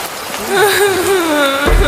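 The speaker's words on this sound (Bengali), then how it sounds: "বাঁশ গাছের ভেতর বৃষ্টিটা একটু কম।" Steady rain falling through a bamboo grove, a soft continuous patter with a tonal musical layer over it, moderately loud and even for the full stretch.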